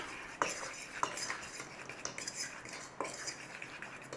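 Flour, baking powder, salt and black pepper being stirred together in a bowl for a chicken cobbler, with quiet scraping and a few sharp clinks of a utensil against the bowl, close and alone.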